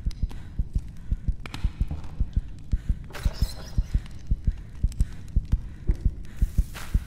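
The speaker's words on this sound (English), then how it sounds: "I hear a heartbeat." Slow, deep thumping heartbeat pulses repeating loudly and steadily in the horror video game Scarlett Deer Inn, over a low droning hum.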